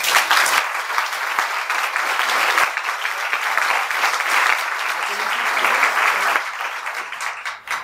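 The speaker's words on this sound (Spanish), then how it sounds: "Un aplauso para Maite." A live audience at a Wesak celebration event in Barcelona claps warmly, with steady overlapping applause that begins to thin out toward the end.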